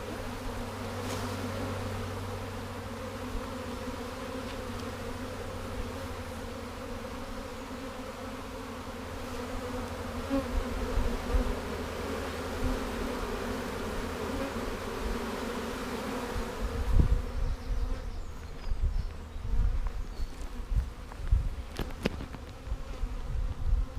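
A swarm of honey bees around a tree hums in a dense, continuous drone close by, with occasional louder buzzes and rustling handling noises in the latter part, no talk.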